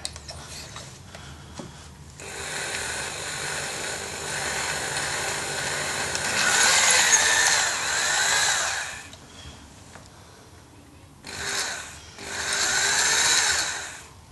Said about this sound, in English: The sharper the drill bit, the faster it goes.